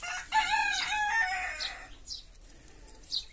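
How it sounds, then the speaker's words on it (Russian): A rooster crows loudly and close by in a rural garden, one drawn-out call followed by a few short clucks and faint bird chirps. "А, это наш петушочек."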